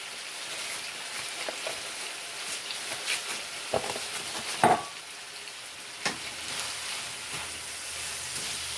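Steak-umm sliced steak frying in a pan, a steady close crackling sizzle throughout with a few sharper pops and scrapes, no talking.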